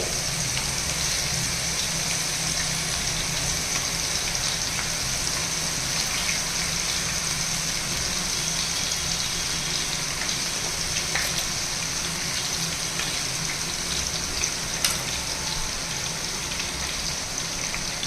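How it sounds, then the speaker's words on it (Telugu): Ginger garlic paste sizzling in hot oil for a mutton pickle, a steady dense crackle and hiss that carries on evenly throughout with no pauses and no talking. "ఈ ఆయిల్లోనే అల్లం వెల్లుల్లి పేస్ట్ ఫ్రై చేసుకోవాలండి"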